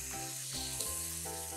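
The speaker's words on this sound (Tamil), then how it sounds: "இந்த சிக்கன் வந்து இந்த மாதிரி சின்ன சின்ன பீஸாக போடுங்க, அப்போ சீக்கிரமாக வெந்து வரும்." Small chicken pieces drop into hot masala, setting off a close, steady sizzle and hiss that carries on through the whole short moment without any voices.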